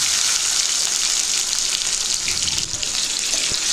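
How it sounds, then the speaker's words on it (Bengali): Whole cumin, cinnamon, cloves, cardamom, bay leaves and chopped tomato frying in hot oil while being stirred, a steady close hiss and sizzle with a few soft scraping knocks. "ভালো করে নেড়ে নিচ্ছি।"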